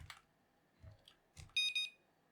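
A 433MHz home alarm driven by a Raspberry Pi gives two short, loud, high-pitched electronic beeps near the end, after a few soft knocks and clicks in a quiet room.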